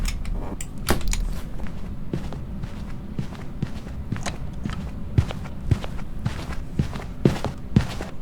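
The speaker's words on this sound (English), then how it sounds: "I can hear the footsteps downstairs." Footsteps in the ghost-hunting video game Phasmophobia, a steady series of thudding steps with a few sharper knocks, moderately close and walking at an even pace, with no talk over them.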